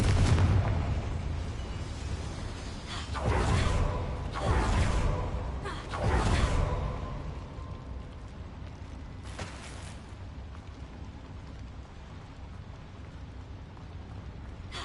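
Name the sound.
Confringo fire spell explosion in a Harry Potter video game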